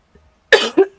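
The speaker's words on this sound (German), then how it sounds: "Es tut mir auch leid, wenn ich noch ein bisschen husten muss immer." A person coughs twice in quick succession: a first burst followed closely by a shorter second one, loud and close, with no other sound around it.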